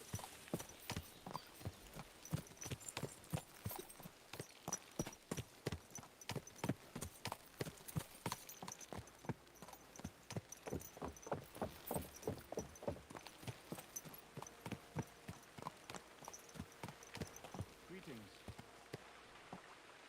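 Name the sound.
horse hooves clip-clopping, video game Kingdom Come: Deliverance II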